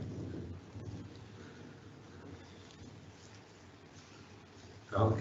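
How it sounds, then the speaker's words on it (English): A thunderstorm with rain heard faintly from indoors during an online talk: a low, steady wash of rain with a soft distant rumble, then a louder low thump of thunder right at the end. "There's a thunderstorm going on."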